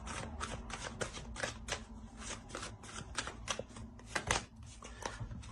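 Tarot cards are shuffled and laid out in a quick, uneven series of soft riffling and slapping bursts, close and fairly faint, with occasional quiet talk.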